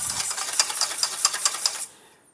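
A lemon juice, vinegar and olive oil dressing with salt is whisked briskly in a bowl, making rapid rhythmic clicking and swishing strokes, close and fairly loud, that stop abruptly near the end.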